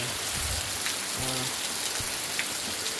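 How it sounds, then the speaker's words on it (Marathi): Steady rain hissing down on a surface, dense and continuous throughout, with a few faint low thuds underneath and no voices. "आता पावसानं कसलं सुसाडमध्ये एक मस्त मोठी सर इली"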